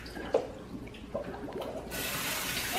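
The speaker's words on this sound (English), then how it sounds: "I normally turn my water on and rinse them a few times in the water" A kitchen tap is turned on to rinse raw meat in a sink. After a few soft splashes and clinks, steady running water rushes in and continues evenly to the end.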